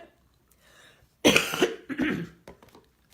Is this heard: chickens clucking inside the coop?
no